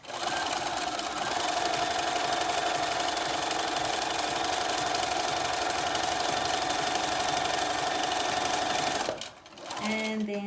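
A sewing machine runs continuously, stitching with a steady buzzing motor drone and rapid needle rhythm for about nine seconds, then stops abruptly, followed by faint handling sounds.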